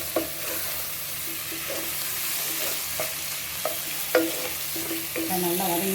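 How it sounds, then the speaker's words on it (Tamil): Vegetable salna masala with coriander powder, chili powder and garam masala sautéing in a pan, a steady sizzle and hiss of frying with occasional scraping stirs and taps of a spoon, close and continuous with no talk. "மல்லித்தூள், மிளகாய்த்தூள், கரம் மசாலா எல்லாத்தையும் போட்டு நல்லா வதக்கிட்டு"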